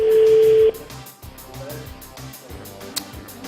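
A telephone number is dialed, starting with a steady tone and followed by a quick series of short beeping key tones at an even pace, with a voice speaking over them.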